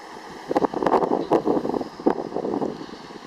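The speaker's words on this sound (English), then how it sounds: "it is windy today" Gusty wind buffets the microphone outdoors during a Blade 350QX quadcopter test flight, with rough broadband roar swelling and fading in irregular bursts throughout.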